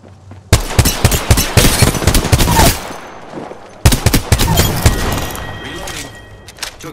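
Loud, close automatic gunfire from Apex Legends comes in two long rapid bursts of sharp cracks and thumps, with a short lull between them. A voice is faintly present.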